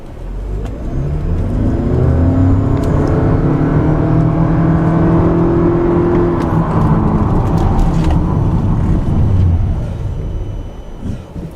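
A Toyota Camry Hybrid car moving slowly around town, giving a loud, continuous engine and road hum that swells and rises in pitch, holds steady, then eases off near the end.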